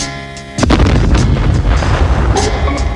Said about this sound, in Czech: A já si z toho kanónu bouknu, kdy chci.